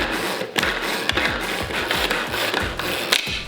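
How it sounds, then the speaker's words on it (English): A hand-cranked manual food processor grinds chili and shrimp paste for nasi goreng, giving a steady mechanical whirring and ratcheting with repeated clicking strokes, close and continuous with no talk. "Add the shrimp paste and let your food processor do the work."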